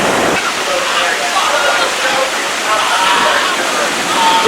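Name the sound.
Roaring Rapids water ride at Six Flags Great America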